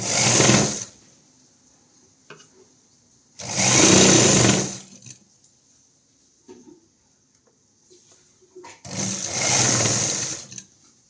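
A sewing machine stitches an umbrella long frock in three loud, whirring bursts of about a second each, separated by quiet gaps with faint handling clicks.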